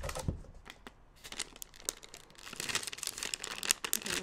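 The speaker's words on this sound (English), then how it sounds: "well, this isn't a special paper bag." A plain paper bag crinkles and rustles in close, crisp bursts with irregular crackles and scrunching, handled near the microphone in a quiet room.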